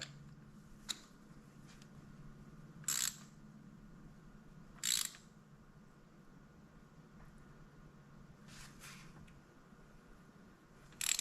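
Ratchet wrench turning while tightening a spark plug on a 2019 Hyundai Santa Fe XL 3.3L V6, heard as short, faint clicking bursts spaced several seconds apart over a steady low hum.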